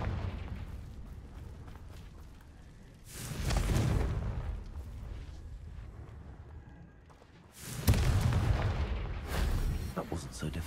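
Two heavy booming blasts from the Confringo fire spell in Hogwarts Legacy, each a loud rumbling burst with a decaying tail, separated by quieter game ambience.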